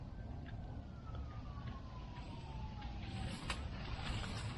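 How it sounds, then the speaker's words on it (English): A faint siren wails far off during a winter snowstorm, its tone sliding slowly downward beneath steady broadband wind and traffic noise. "You hear sirens way out in the distance"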